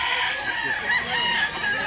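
A two-year-old rooster at a poultry sale in Mantalungon, Cebu crows loudly and close, one sustained call filling the moment with no talk over it.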